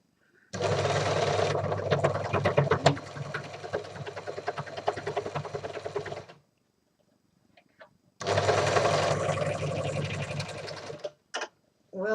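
A Janome sewing machine stitches a steampunk tote bag in two long, steady runs separated by a pause, its motor humming with a fast needle rattle, close and clear with no talk over it.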